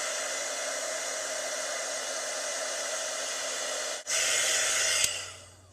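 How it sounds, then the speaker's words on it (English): A Stampin' Up heat tool blows a loud, steady whoosh while melting Stampin' Emboss powder on cardstock, cuts out briefly for a moment, then resumes with a slightly different tone before winding down. "heat it up a little bit, and then just move it around the cardstock to melt the Stampin' Emboss powder"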